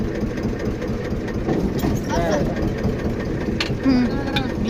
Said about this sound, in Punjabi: ਇੱਥੇ ਬੈਕ ਕਰਕੇ ਇਹ ਲੈ ਆਉਣੇ ਆ ਟਰੈਕਟਰ ਆਪਣਾ